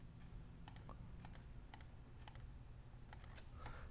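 Quiet computer keyboard and mouse clicks in short, scattered bursts of sharp taps over a low, steady hum, with no talking.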